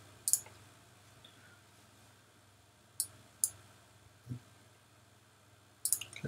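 Mouse button clicks on a computer while working in a Cocos2d-x JavaScript game project, several sharp isolated clicks spaced a few seconds apart, close and fairly loud over a low steady hum.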